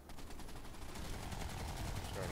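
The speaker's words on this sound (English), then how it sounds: "fire on one of the Mag Riders with your small arms fire" Small arms rifle fire from infantry in the Planetside 2 video game, aimed at a Mag Rider hover tank: a steady, continuous stream of rapid shots at moderate level with no pauses.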